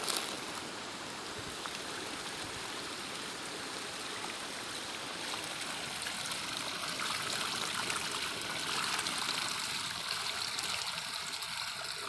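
Holy water at a gurdwara in the hills of Uttarakhand flows steadily, a continuous rushing, trickling wash that holds an even level for the whole stretch, with no voices.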